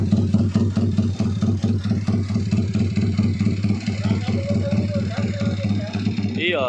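A 2-stroke contest motorcycle from around 2017 idles steadily with a rapid, even putter close by, while someone briefly speaks over it near the end.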